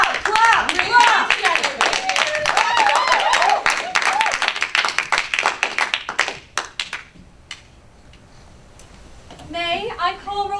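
During a school stage production of Miss Nelson Is Missing at Wilson Hall Theater, rapid claps burst out amid loud children's voices for several seconds, then die away into near silence before speech resumes at the end.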